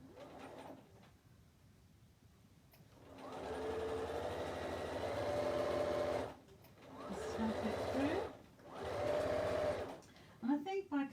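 A domestic sewing machine back stitching a fabric bag with foam inside runs in several steady bursts of whirring stitches separated by short pauses, close and fairly loud, with handling clicks near the end.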